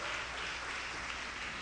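A church congregation claps steadily during a Spanish-language sermon, a dense continuous wash of many hands with no individual claps standing out.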